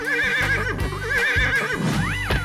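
Repeated wavering whinnies from a horse in a 3D animal video game ring out loud and close over a rhythmic, thumping game soundtrack, ending in a rising-falling squeal.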